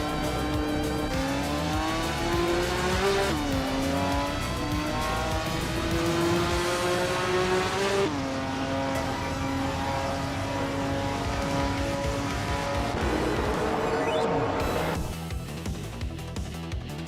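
Race cars roar through a racing video game, their engines a steady, loud whine that climbs and shifts pitch through gear changes and surges, continuous for the whole stretch with no talking.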